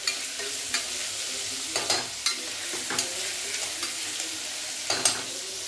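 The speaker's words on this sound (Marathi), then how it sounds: "कांद्याला पण छान ह्याच्यासोबत परतून घ्यायचं आपल्याला।" Onion and dilpasand sautéing in oil over medium-low heat, a continuous crackling sizzle broken by repeated scraping and clinking of a spoon stirring the pan.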